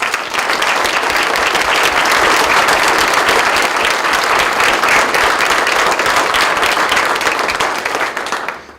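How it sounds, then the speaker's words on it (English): Loud, sustained applause for graduates at a graduation ceremony, a thick wall of clapping from a large audience that holds steady for about eight seconds before fading out at the end. "So one more time, I'd like to give these 6 a round of applause."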